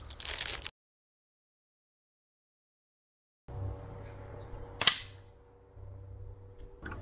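A Beeman P17 air pistol fires at a paper target, producing a short sharp snap, with brief handling noise before a long pause and then a faint low hum afterward.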